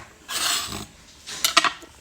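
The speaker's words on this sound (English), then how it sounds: "cut off this end piece right here" A knife cuts the end off a vegetable: a short rasping slice, a pause, then two quick, sharp knocks close by.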